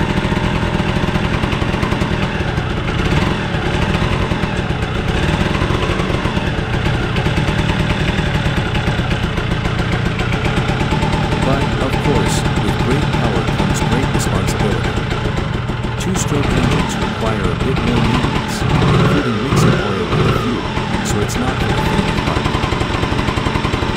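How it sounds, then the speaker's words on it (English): A Yamaha TZR125 two-stroke 125 cc motorcycle engine runs steadily with a buzzing, rattly exhaust note throughout. A voice talks over it much of the time. "the intoxicating two-stroke exhaust note. It's a symphony of high-pitched wails and pops"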